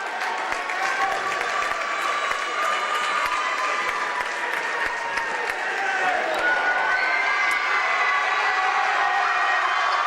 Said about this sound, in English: To a round of applause for Hudson Novak